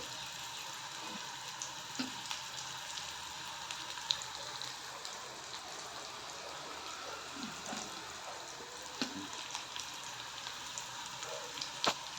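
Onion frying in a pan until browned gives a soft, steady low-level sizzle with a few faint scrapes and clicks, quiet and without voices.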